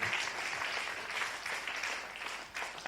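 An audience at a district officers' luncheon breaks into steady applause, many hands clapping in a dense, continuous patter, moderately loud and sustained with no voices on top.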